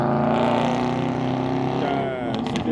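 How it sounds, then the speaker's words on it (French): A car passes by outdoors, a broad engine and tyre roar with steady low harmonics that swell and then fade near the end, loud and close throughout. "c'est une voiture à la con qui vient de passer là"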